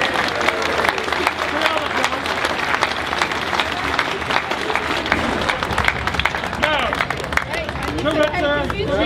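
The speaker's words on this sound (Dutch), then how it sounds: "Weer één keer nog een applaus voordat we het bevrijdingsvuur aansteken." A crowd gathered in Brielle for the 5 May liberation fire ceremony applauds, a dense, loud, sustained clapping with cheers and chatter mixed in, lasting the whole stretch.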